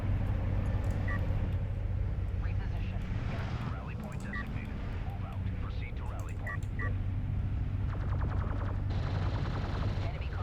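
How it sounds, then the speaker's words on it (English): Light armored vehicle fire on a sand skimmer in the real-time strategy game Homeworld: Deserts of Kharak: a steady, dense rattle of gunfire mixed into a constant wind-like roar, with a voice talking over it throughout. "LAV's gonna shoot up that sand skimmer in mid."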